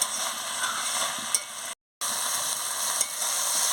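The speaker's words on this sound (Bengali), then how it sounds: "দেখুন আমি ভালো করে এটাকে নাড়িয়ে নিচ্ছি" Cabbage cooked with fish head in a frying pan, stirred through a continuous soft sizzle with a couple of light scraping clicks and a brief silent break, no talk.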